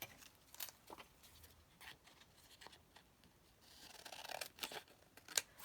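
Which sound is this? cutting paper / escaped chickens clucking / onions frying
cutting paper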